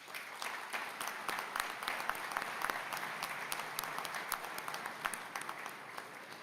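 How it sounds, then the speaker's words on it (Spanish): An audience at a speech by Uruguay's minister of industry, energy and mining gives steady applause for ministry staff, a dense patter of many hands clapping at moderate distance. "así que les pido un aplauso para ellos."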